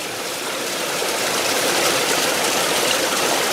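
Water sloshing steadily in a gold pan as gravel material is panned down, a loud, continuous rushing wash with no breaks and no talking.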